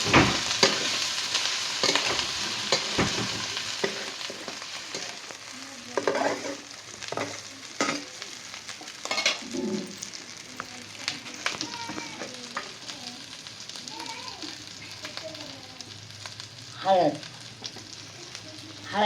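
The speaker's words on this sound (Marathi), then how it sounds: "टाकून जरा आम्ही चांगलं हलवून घेणार आहे" Wet val bean curry frying in a pan on a farm, stirred repeatedly: continuous sizzle broken by uneven spoon scrapes and clatters over nearly twenty seconds, fairly close, with faint background voices at times.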